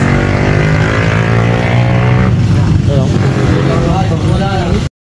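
A Honda Click 150i scooter engine running steadily after a kick start, a loud close idle drone with a busy harmonic hum that continues for about five seconds before cutting off abruptly.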